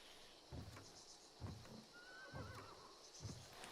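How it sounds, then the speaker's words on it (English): A horse whinnies in the Western shooter game Hunt: Showdown 1896, a brief wavering neigh heard at a distance over quiet ambience, with a few soft hoof thuds spaced evenly around it. "So we just heard a horse whinny."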